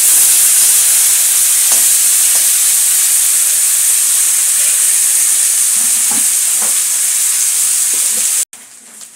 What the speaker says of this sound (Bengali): মাছটাকে আমি ভালো করে ভেজে দেবো বন্ধুরা।